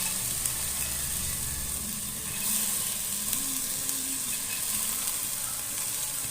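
Sprouted green gram and potatoes fry in oil with a steady close sizzle and hiss, and occasional stirring scrapes in the pan.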